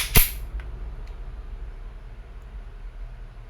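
A single sharp shot from a silver WE Airsoft M92 airsoft pistol cracks once near the start, then trails off into steady low background noise with no further shots.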